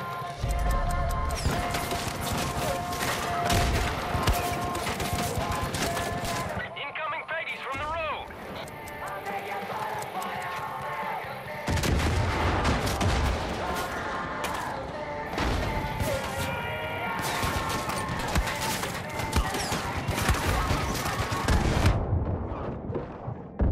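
Mortar blasts and machine-gun fire rumble through a Far Cry 5 battle scene, dense bursts of combat noise running almost continuously with a brief lull, while voices talk over the chaos.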